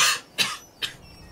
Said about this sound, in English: I need to cough real bad.